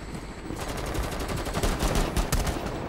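A bomber's pistol firing in Rainbow Six Siege Terrorist Hunt, loud rapid bursts of gunshots rattling continuously, dense and close with no pauses.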